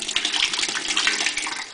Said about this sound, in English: we're going to pour the vegetable broth in the pot